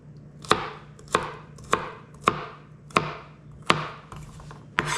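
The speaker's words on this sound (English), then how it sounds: "we're going to cut these into pieces that are about 3/4 inch to 1 inch" Knife slicing asparagus spears into pieces on a cutting board, seven sharp, evenly spaced chops about half a second apart, close and clear with no talking.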